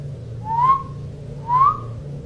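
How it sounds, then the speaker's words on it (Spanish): Two rising whistles, each a short upward-sliding tone, sound one after another over a low steady hum. "Alguien silbó entre los árboles."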